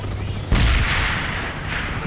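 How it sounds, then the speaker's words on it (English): A grenade explodes in the online shooter PlanetSide 2 with a single heavy boom. A long noisy rumble trails off under continuous battle noise. "Grenade."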